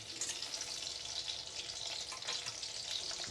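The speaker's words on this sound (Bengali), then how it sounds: "এবার আর একটা পিঠ আমি ভালো করে ভেজে নেব" Chicken cheese patties frying in a pan on low heat after being flipped, producing a constant, fairly soft sizzle and crackle with no speech.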